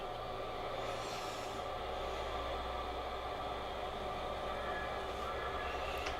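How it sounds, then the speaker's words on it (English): A freight train with grain cars rumbles steadily in the video game Farming Simulator 22, a continuous low rolling drone that stays fairly loud and constant throughout with no voices over it. "There's our train."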